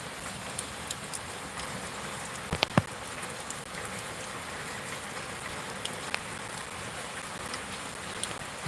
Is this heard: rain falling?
yes